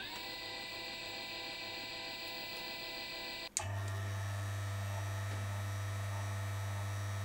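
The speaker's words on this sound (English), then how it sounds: "let's grind 18 grams of coffee on the espresso settings" A Kafatek Max 2 flat burr coffee grinder grinding espresso, a steady motor drone that shifts to a deeper, fuller hum midway as the burrs take the beans, close and fairly quiet with no talk.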